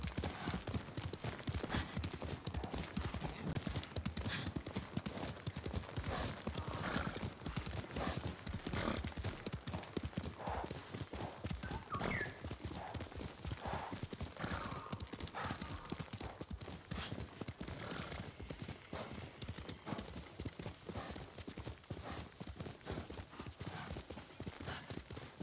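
A horse's hooves clip-clop in a brisk, unbroken rhythm during riding in the samurai game Ghost of Tsushima, loud and close for the whole stretch, with occasional snorting.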